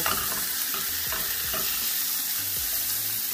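Peppers and onions frying in a nonstick pan alongside a steak, a dense, even sizzle with faint stirring scrapes underneath, close and continuous with no voices.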